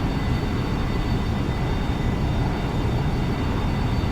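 Steady broadband roar of an airplane engine in the X-Plane 11 flight simulator, a constant droning rumble with no talk, even in loudness throughout.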